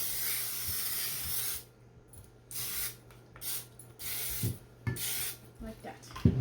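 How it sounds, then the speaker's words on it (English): Short hissing bursts of aerosol oil spray onto a baking pan come in quick succession, separated by brief pauses, with faint handling clatter afterward. "we're going to take our pan and going to spray it."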